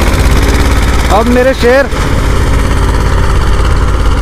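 An old Escort 335 tractor pulls a tiller with a steady, low engine drone that runs throughout, while someone talks over it.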